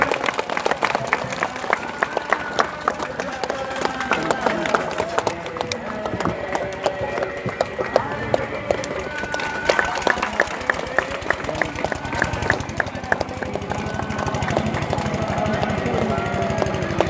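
Audience claps to welcome a guest at a Radha Krishna religious gathering, a dense continuous patter of applause throughout, with a voice speaking over it.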